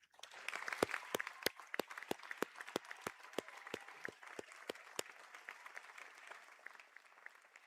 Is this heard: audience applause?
yes